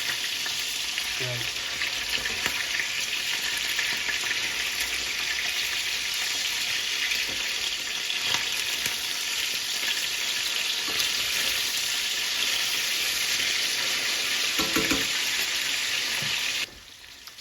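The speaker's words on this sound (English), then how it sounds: "it's been about 6 to 7 minutes I've been frying the chicken" Chicken fries steadily in a pan with a dense, even sizzle throughout, broken by a few brief stirring clinks and knocks, then stops near the end.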